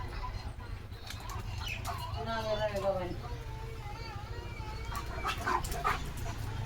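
Dogs whimper and bark close by over a steady background hum, with people talking at the same time and faint bird or chicken calls.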